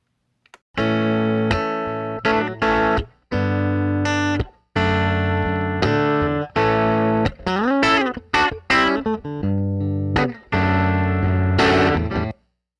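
Electric guitar played through a Fender Vibroverb amp in a recording studio with room mics and a pedalboard, heard alone as a loud run of sustained chords and single notes with clear gaps between phrases and some bends.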